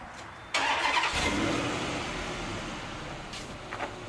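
A 1952 Dodge truck with a fuel-injected HEMI V8 catches and settles into a steady, fairly quiet idle nearby, a brief louder burst near the start easing into an even rumble.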